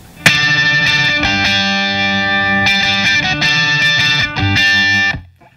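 Electric guitar through an Analogman Prince of Tone overdrive pedal on its distortion setting, loud sustained distorted chords with a few restrikes, ringing out and then cut off at the end.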